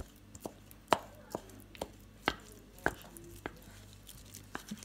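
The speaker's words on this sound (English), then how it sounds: "I'm just going to mash my potatoes" Potatoes being mashed with a wooden spoon in a bowl for garlic mashed potatoes, about a dozen irregular dull knocks and thuds against the bowl, close and moderately soft with quiet pauses between.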